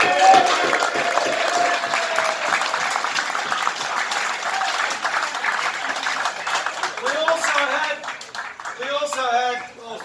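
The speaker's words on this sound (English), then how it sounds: "So big round of applause for Alex." A crowd applauds steadily, the clapping dense at first and thinning toward the end, with voices rising over it near the close.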